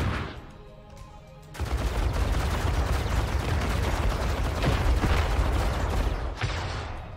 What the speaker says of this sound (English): Oh my god, those bloody big guns.